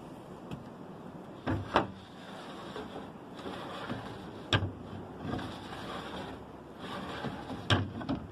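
A wooden drawer on waxed guide strips slides open and shut several times, with soft gliding rubs ending in light knocks as it stops, close by and quiet.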